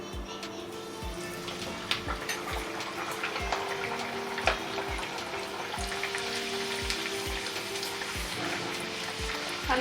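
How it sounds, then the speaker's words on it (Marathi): Pumpkin puris fry in hot oil over medium heat, giving a steady close sizzle and bubbling with regular soft knocks repeating throughout. "आता आपण मीडियम आचेवर पुरी तळून घेऊ"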